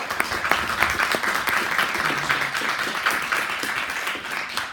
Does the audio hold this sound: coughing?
no